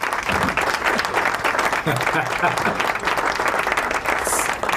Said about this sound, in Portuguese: A plateia virtual de pé, plateia virtual, vamos lá.